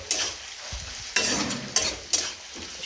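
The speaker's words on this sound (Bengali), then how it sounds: "পেঁয়াজ আর কাঁচা লঙ্কা দিয়ে আলু উচ্ছে ভাজা করব" Potato and bitter gourd frying with onion and green chilli in a pan, a continuous sizzle broken by a few sharp stirring scrapes close by.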